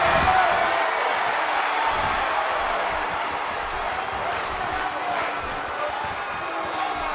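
Arena crowd in the WWE 2K18 wrestling video game roaring and cheering continuously at a steady loud level, a dense wash of voices with scattered shouts throughout.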